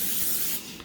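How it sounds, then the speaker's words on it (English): Olive oil spray hisses from a can into the inside of a spaghetti squash in one short, close, steady burst that tapers off before a second. "olive oil spray."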